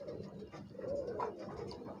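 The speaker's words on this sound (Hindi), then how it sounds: "हमारे छत पे सारे परों के कबूतर होते हैं।" Pigeons of mixed feather types coo softly on a rooftop in Allahabad, a low continuous murmur of overlapping calls with a couple of brighter notes rising briefly above it.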